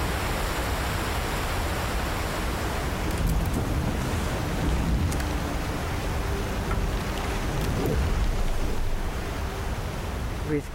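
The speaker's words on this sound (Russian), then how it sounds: "Великий потоп" A great flood of rushing water in the video game Broken Lines: a steady, loud, broad roar of surging water that swells slightly and never lets up.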